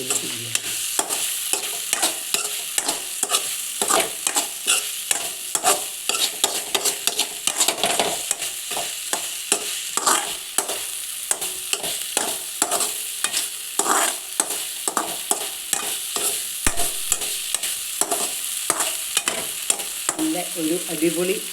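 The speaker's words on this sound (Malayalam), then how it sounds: "ഇതിലേക്ക് ഇനി ഒരു മുറി തേങ്ങ ചെറിയത് ഇട്ടിട്ട് ചിരണ്ട തേങ്ങ ഇട്ടിട്ട് നന്നായി വേവിക്കുക" Tomato thoran with grated coconut sizzles steadily in a pan while a utensil scrapes and stirs it in a constant, busy rhythm, close and fairly loud with no talking.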